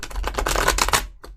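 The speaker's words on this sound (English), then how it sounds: "One more shuffle." A deck of tarot cards being shuffled by hand, a dense rapid riffle of papery flicks for about a second, then a brief pause and a short final snap of cards, close and clear with no talking.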